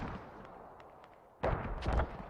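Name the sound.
mortar fire in a video game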